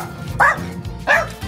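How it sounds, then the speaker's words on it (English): A blind Cocker Spaniel barks excitedly before going out to a dog grooming salon, giving two short, sharp barks about half a second apart, close and clear over low background noise. "so she likes to bark a lot."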